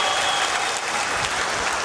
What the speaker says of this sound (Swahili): Tupige makofi mengi kwa GSM.